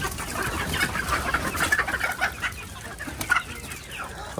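Chickens cluck steadily inside a village poultry coop, a dense overlapping chorus of hens close by with no talk.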